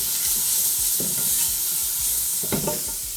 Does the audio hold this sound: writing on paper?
no